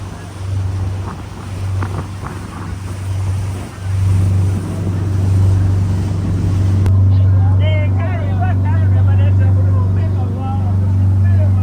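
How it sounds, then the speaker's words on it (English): A powerful motorboat engine drones steadily on an Atlantic ocean ride, a deep constant hum under rushing wind and water noise, with some talk in the first half and a brief seabird-like chirping later. "Powerful engine."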